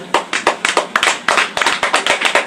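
A congregation at a church preaching service applauds in a burst of quick, uneven hand claps, loud and close, running steadily for a couple of seconds.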